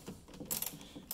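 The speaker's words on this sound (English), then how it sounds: "this is the reason why I kind of like this fancy ratchet" A ratchet with a 10 mm socket loosens the headlight housing bolts on a 2017 Ram 2500, giving a few faint, quick mechanical clicks up close.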